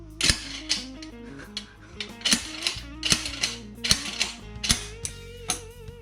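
Metal mechanism clicks and ratchets from a blind bearing puller gripping and extracting a frame bearing on a Specialized Gen 2 Levo e-bike, a run of close, sharp clanks and ticks with no talk.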